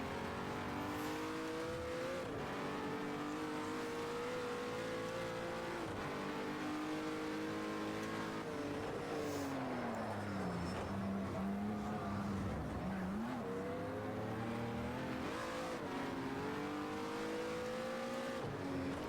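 A race car engine in the racing game Project CARS 2 drones loudly and continuously, its pitch climbing and dropping through revs and gear changes, with a deep dip and recovery midway as the car slows and accelerates again.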